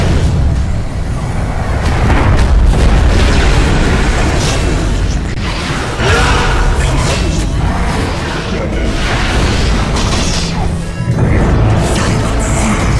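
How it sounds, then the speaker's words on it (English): Dota 2 battle sounds around the Dire middle tower as it comes under attack: a dense, continuous wash of crashes, impacts, whooshes and booming hits layered over one another, loud and busy throughout. "Dire's middle tower is under attack."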